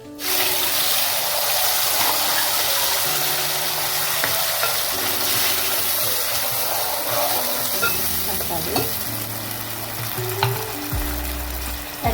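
Curry leaves hit hot oil for a fish curry, setting off a loud, dense sizzle and crackle that holds strong throughout with some stirring and clinks.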